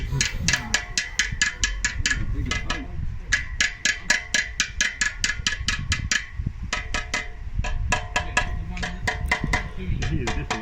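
Steel strap being hammered down to the curve of a locomotive boiler barrel during boiler repairs, a long run of sharp, evenly spaced metallic blows in quick bursts with short pauses, close and fairly loud.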